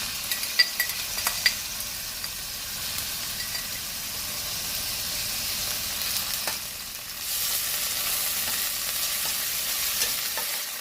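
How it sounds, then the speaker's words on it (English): Celery and white onion fry in palm oil in a pot with a steady, hissing sizzle and occasional light clinks of a utensil. The frying grows a little louder about two-thirds of the way through, and no one speaks. "I've gone ahead to add palm oil into my pot. So I'm going to go ahead and add my celery and some of my white onion."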